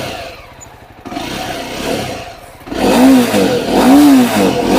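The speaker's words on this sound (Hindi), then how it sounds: "अब इसके इंजन को एक बार फायर करते हैं तो इसका साउंड कुछ इस तरीके से होता था।" An old Jawa Classic BS6 motorcycle engine fires up, its exhaust note settling into a loud, close, lumpy idle with rhythmic pulsing and a couple of throttle blips, after a quieter stretch of mechanical clatter.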